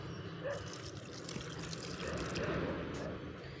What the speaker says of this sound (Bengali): এইভাবে গাছগুলো গোড়ায় দিয়ে দিলাম জলটা